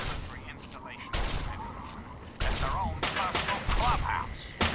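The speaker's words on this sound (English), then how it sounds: "That is laser fire." Bursts of laser fire in the Fallout 3 video game crackle in several sharp volleys, loud and close, over a steady background hum.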